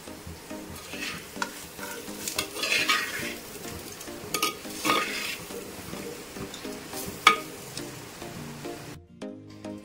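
Cooked sweet potato stirred in a pan with onion, a spoon scraping and turning the pieces over a steady sizzle with clinking metal, the stirring continuous and close, then dropping to near quiet at the end.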